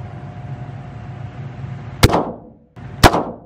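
Two sharp, loud pistol shots about a second apart at a police shooting range where 38, 40 and 9 mm handguns are fired, each crack followed by a short echoing decay over a steady background hum.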